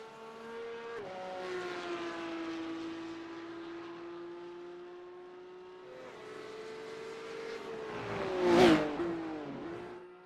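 Porsche Cup race car heading out on its out-lap at Catalunya, engine note rising and holding steady through gear changes, with a sharp loud burst near the end as it passes close by.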